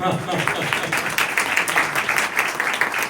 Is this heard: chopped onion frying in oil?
no